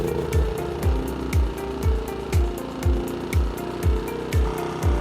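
A Bison gasoline inverter generator runs after a remote start, with a steady, close engine chug that pulses about twice a second under a light mechanical hiss.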